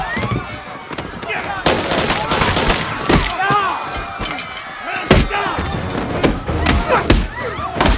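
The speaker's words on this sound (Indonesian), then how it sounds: "Terjadilah baku tembak dan baku pukul antara Luke dengan anggota triad" Gunfire and brawling in a film shootout between a man and triad gang members in a restaurant, rapid loud shots and thuds cracking over a busy, chaotic soundtrack.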